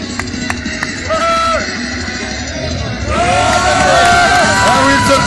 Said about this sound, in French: Ah oui, il se fait applaudir